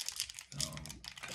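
Foil wrapper of a Pokémon Astral Radiance trading card pack being torn open, with close, crisp crinkling and ripping in several quick bursts.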